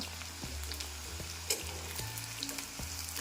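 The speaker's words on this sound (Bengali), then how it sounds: "তো এইভাবে আমি সব পকোড়াগুলো ভেজে নিচ্ছি।" Soybean pakoras frying in hot oil, a steady close sizzle with light bubbling and occasional soft stirring knocks, no voices.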